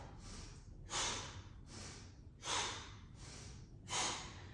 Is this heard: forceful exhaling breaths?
yes